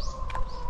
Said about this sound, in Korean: 까마귀 소리가.